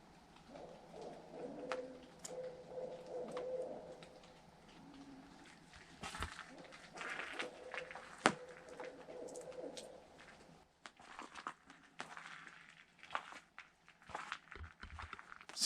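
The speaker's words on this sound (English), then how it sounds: "all of a sudden there's a group of 2 or 3 owls out here just going at it" Two or three owls calling at night at Taidnapam Campground by Riffe Lake, Washington: repeated cooing hoots from the trees at moderate distance, joined by scattered rustles and footsteps nearby.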